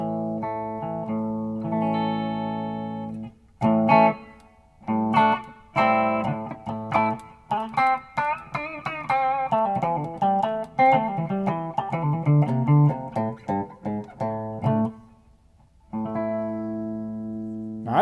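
Electric guitar played through a Fesley FME-1000 guitar workstation into a '65 Twin amp with a bit of reverb, clean sustained chords and picked notes with short pauses, loud and alone.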